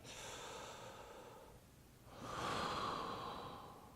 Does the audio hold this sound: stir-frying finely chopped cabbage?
no